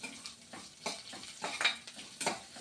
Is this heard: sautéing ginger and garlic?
yes